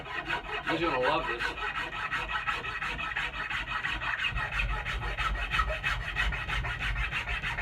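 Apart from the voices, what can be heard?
spokeshave smoothing yellow birch handle wood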